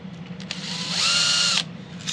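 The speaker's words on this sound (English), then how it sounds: "I'm going to drill a 1/16 hole, just make sure you don't go through the board," A power drill bores a 1/16 inch hole into a wooden concert ukulele bridge, giving one short, high whine of about half a second that rises and then cuts off, close by in a workshop.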